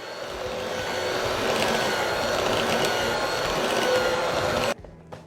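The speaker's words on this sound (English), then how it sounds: "I'm gonna beat it really well with my hand mixer" Electric hand mixer beating a sweet potato casserole mixture in a bowl, a steady loud whirring drone that runs for several seconds and then cuts off abruptly near the end.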